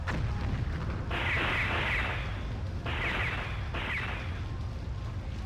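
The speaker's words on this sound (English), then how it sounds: "there's like explosions going off now" Booming blasts in the Dreamcast game Roommania, with two bursts of explosive noise around one and three seconds over a continuous low rumble, loud and without speech.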